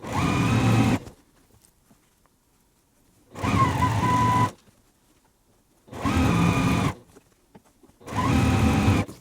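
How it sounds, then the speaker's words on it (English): Sewing machine stitching quilt block pieces together, four separate bursts of steady motor whirring separated by silent pauses. "let's go ahead and sew these together."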